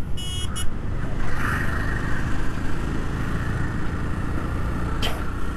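A 2022 Yezdi Roadster 350cc motorcycle runs on a test ride at about 4000 rpm near 65, its engine a steady, loud drone mixed with wind and road noise, joined by a couple of brief high chirps.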